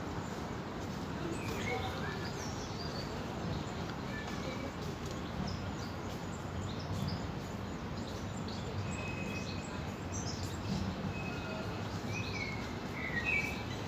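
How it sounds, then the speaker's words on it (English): A goldfinch sings from a tree in an indoor rainforest garden, giving faint scattered chirps and short twittering phrases over a steady background hum. "Oh, there's a golden finch in a tree just down."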